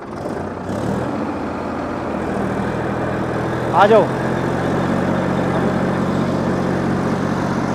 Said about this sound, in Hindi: अनुज भाई, एक बार चलता कर दो इसे ट्रैक्टर को